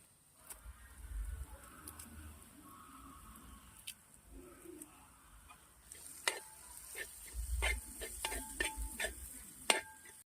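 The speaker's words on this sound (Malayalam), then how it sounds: "നാടൻ കറിവേപ്പിലയാണ് അടുത്ത് ഇടുന്നത് കേട്ടോ." Curry leaves crackle and sizzle in hot oil with ginger, green chilli and garlic for chicken curry, quiet at first, then sharper pops and a spoon stirring against the pan, with faint bird calls in the background.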